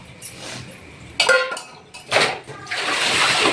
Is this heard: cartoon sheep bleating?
no